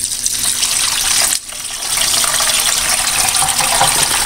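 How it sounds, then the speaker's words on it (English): Brine pours steadily over chicken with a continuous splashing rush, briefly pausing midway before resuming just as strongly. "And now all I do is pour this brine over it."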